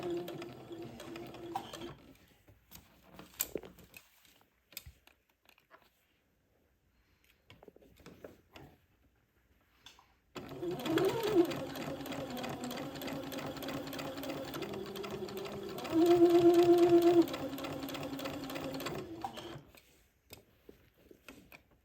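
A sewing machine sews a seam on a doll dress beside an entredeux ladder, starting with scattered clicks and handling noises and then settling into a steady mechanical hum that rises briefly in pitch and loudness.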